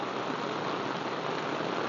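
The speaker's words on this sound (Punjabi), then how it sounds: "ਬਾਰਿਸ਼ ਵੇਖ ਸਕਦੇ ਹੋ ਕਿਸ ਕਦਰ ਦੀ ਤੇਜ਼ ਹੋ ਚੁੱਕੀ ਹੈ।" Heavy rain pouring down in a village, a steady dense hiss of downpour, even and continuous throughout with no voices.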